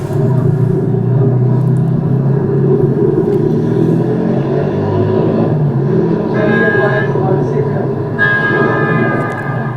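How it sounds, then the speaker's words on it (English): Wind and road rumble roar steadily while riding in the back of a pickup truck through Georgetown, Guyana, with horn toots near the end and voices under the noise. "Extra ride on the pickup truck."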